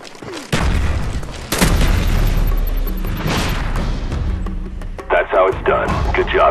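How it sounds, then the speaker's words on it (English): A frag grenade detonates in a military video game, a loud booming blast that swells through the scene with debris and rumble after it, followed by sharp gunfire-like cracks near the end. "Frag out!"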